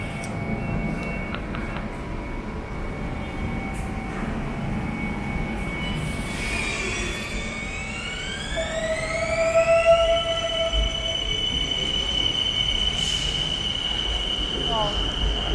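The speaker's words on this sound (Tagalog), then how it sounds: "Ito yung likod ng train yung sinasakyan natin ngayon." A train heard from its rear car, rolling on steady rumble while shrill wheel squeals rise and hold over the rails, getting louder toward the end; no talk.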